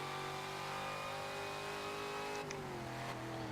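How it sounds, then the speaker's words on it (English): A race car engine from the racing game Forza Motorsport 7 drones at a steady, sustained pitch with a slight shift partway through, heard alone at a low level with no voices. "I do really like the sound on this car as well."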